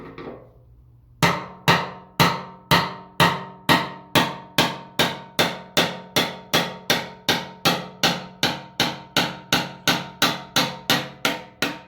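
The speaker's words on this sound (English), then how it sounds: "I just take a little pry bar and a little hammer" Steady metallic hammer taps on a pry bar, working a lock ring off an '87 Chevy S10, about two per second, each ringing briefly, continuing for around eleven seconds after a quiet start.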